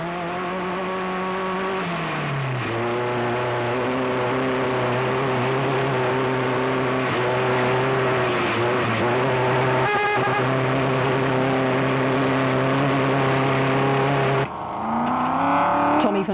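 A race car engine in an off-road rally event roars loudly and steadily, holding a sustained droning pitch with a dip and shift early on, then a sudden change near the end as the engine note rises.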